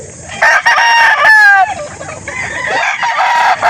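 A Grand Kelso gamefowl rooster crows loudly and close by at a poultry market, with one strained, wavering crow plus clucks and other birds' calls around it.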